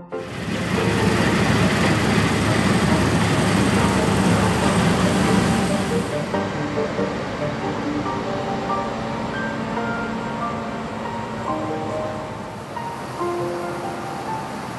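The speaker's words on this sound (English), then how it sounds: "See how the trailer comes in and tips the grains of wheat onto an elevator so it gets piled up nice and high" A farm trailer tips a load of harvested wheat grain onto an elevator, a steady rushing hiss of pouring grain that eases after a few seconds into a quieter flow with a low machinery hum beneath.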